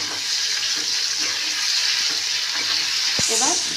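Sliced bitter gourd seasoned with salt and turmeric fries in a pan, a dense continuous sizzle close by with brief stirring scrapes and a light clatter near the end, no speech.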